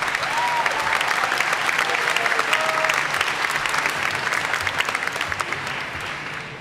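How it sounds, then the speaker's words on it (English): Graduation ceremony audience applauding loudly and steadily, a dense wash of many hands clapping close and continuous throughout, with a few faint cheers rising over it. "please a round of applause to her"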